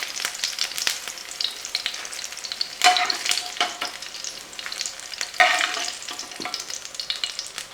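Onion softening in hot oil for a raw mango chutney, a steady close sizzle with crackling spatters and a couple of louder stirring scrapes, no voices throughout.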